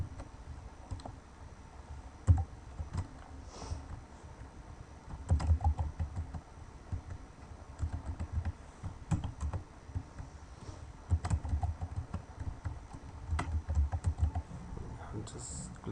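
Typing on a computer keyboard, a steady run of light key clicks in uneven bursts with a few louder taps, close and fairly quiet, with faint background noise.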